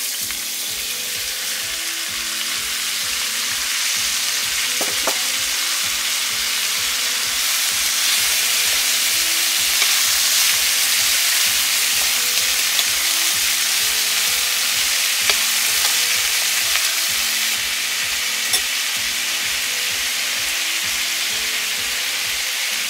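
Papdi beans and asafoetida fry in a pan with a long, steady hiss and crackle, close and fairly loud, with occasional clicks and a faint repeating low hum beneath, no talking.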